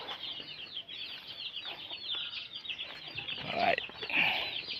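Free-ranging native chickens clucking and calling in a busy, continuous chorus outdoors, with some wing flapping and a louder burst of calls near the end, no voices.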